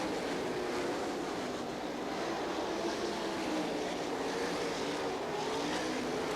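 Sprint cars racing on a dirt track at the Knoxville Nationals in 1995 make a steady, loud, continuous engine roar throughout, with no voices.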